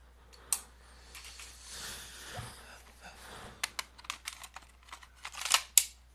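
A DVD drive slots into a ThinkPad T420 laptop with a run of small, sharp plastic clicks and knocks, with the firmest snaps toward the end, heard close by against a quiet room.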